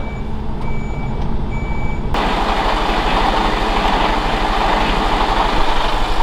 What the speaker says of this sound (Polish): podpinamy naczepkę, pomalutku, pomalutku, do tyłu i teraz damy troszeczkę na poduszkach